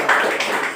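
A church congregation claps in worship to thank God. A few quick, evenly spaced claps land in less than a second and sound fairly close and crisp.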